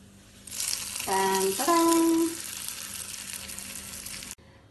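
A loud burst of sizzling as a hot mustard-seed tempering in oil is poured into jackfruit kalan curry, hissing strongly for a few seconds before cutting off abruptly.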